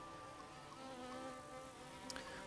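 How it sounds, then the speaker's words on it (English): Flies buzz steadily in the video game Jagged Alliance 3, a soft, continuous insect drone with faint ambient tones beneath it and no voices. "I can hear flies buzzing around out there."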